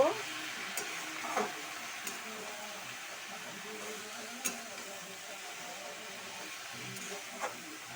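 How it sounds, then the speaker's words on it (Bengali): Potato greens in a pan give off a faint, soft sizzle. A few scattered light scrapes and clicks come from gentle stirring at uneven intervals. "হালকা একটু নেড়ে চেড়ে নেব"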